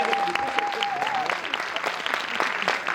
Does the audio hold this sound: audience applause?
yes